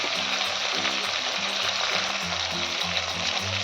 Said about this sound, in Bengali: 1 চামচ আদা বাটা দিয়ে ভালো করে আমি মশলাটাকে কষিয়ে নেব